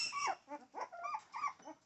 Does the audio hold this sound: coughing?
no